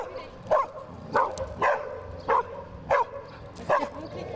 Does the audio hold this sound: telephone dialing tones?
no